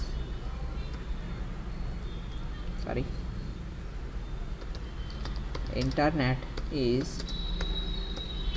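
Typing on a computer keyboard while writing Android Studio code: scattered, light key clicks under a speaking voice, with a few short bursts of tapping.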